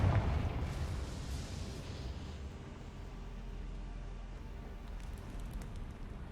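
A Confringo explosive curse from a Harry Potter video game bursts loudly at the start, then fades into a long, rumbling, crackling tail that lingers at a steady level.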